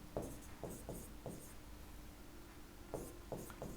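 Chalk or marker writing on a classroom board, heard as faint, close scratchy strokes in two short bursts with a quiet pause between them, and no voices.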